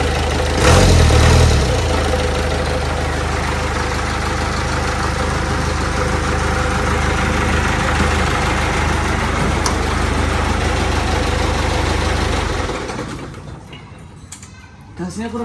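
An old truck with no engine heat shielding idles steadily, a loud continuous rumble that holds for about twelve seconds before dropping away near the end, with faint voices in the background.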